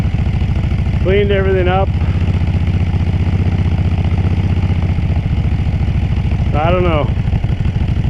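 A Kawasaki Brute Force 750 ATV engine idles with a steady, throbbing low rumble throughout, close and loud, as someone speaks briefly twice over it.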